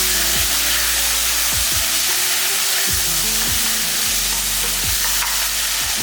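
Cooked cowpeas with a little fennel seed sizzle in a hot pan as they are sautéed, giving a constant loud frying hiss broken by several scraping stirs, with no talking.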